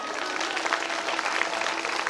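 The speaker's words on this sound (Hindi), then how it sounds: "जोरदार तालियों से स्वागत करें" Enthusiastic applause welcoming a guest at a Bhagavat Katha religious gathering in Madhya Pradesh, a dense, steady wash of clapping from a large crowd, brief and continuous with no pauses.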